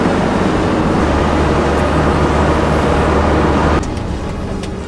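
A camper van pulls away in first gear, its engine a steady low drone with road rumble close by, cutting off abruptly near the end as the sound drops to a quieter hum.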